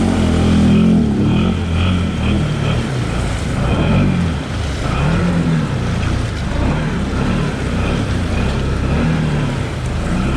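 A Can-Am Outlander 850 XMR ATV on 32-inch Aztex tires runs with a loud, low, rumbling engine note that pulses and surges continuously close by, with no talk over it.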